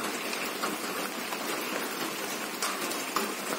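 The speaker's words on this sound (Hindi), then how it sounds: "तो बारिश तो फिर स्टार्ट हो गई है" Steady rain falls outdoors, a dense, even hiss of drops hitting surfaces that stays constant throughout with no voices.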